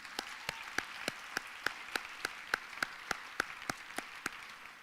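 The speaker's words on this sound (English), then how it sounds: "How about a round of applause for Freed?" Applause at the Do Good Challenge finals, heard as a steady, evenly spaced series of sharp individual claps rather than a full crowd roar, moderately close and otherwise quiet.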